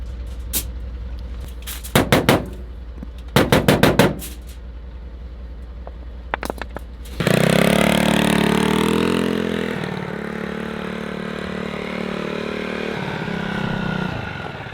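A pickup truck engine doing a burnout: a few sharp bursts and clatters, then a loud sudden rev that roars and holds with a rising, straining tone before easing off, close by and with no talk.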